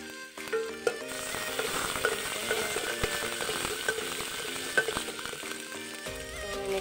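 Chopped ginger and garlic sizzle in hot mustard oil, a steady, busy frying crackle with scattered stirring clinks and scrapes against the pot throughout, fairly close and without speech.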